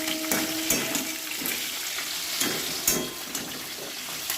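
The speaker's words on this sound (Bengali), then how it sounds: "আর এই যে আমার মাছের মাথা ভাজা হচ্ছে" A fish head fries in hot oil, giving a steady, close sizzle with crackling spits and occasional pops, with no talking over it.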